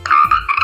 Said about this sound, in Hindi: मेंढक कितना खुश है सही जगह कूदकर।